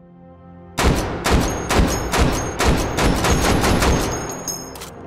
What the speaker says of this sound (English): Big boom gun.